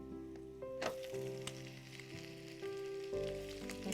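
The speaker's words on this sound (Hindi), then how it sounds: "ज़ीरा, तो हम इसमें प्याज डालेंगे।" Onion and cumin seeds sizzle in hot oil in a home kitchen, a steady frying hiss with occasional sharper crackles and pops, close and fairly loud, with no talking.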